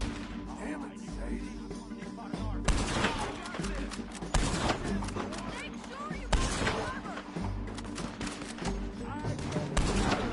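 Gunfire in the Western video game Red Dead Redemption 2, repeated sharp shots and bursts in quick succession, loud and close, mixed with voices talking over the shooting.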